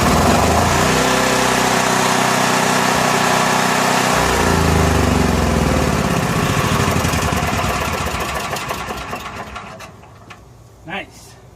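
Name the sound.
Honda RV generator engine running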